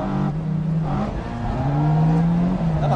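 A drift car's engine roars at full throttle throughout a drift, loud and sustained, its pitch wavering and climbing as the revs are held high.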